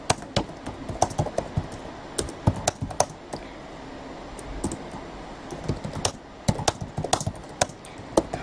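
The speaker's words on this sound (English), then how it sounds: "type a little message for everybody." Computer keyboard being typed on up close, bursts of sharp key clicks and taps in an uneven rhythm with short pauses between words, no voices.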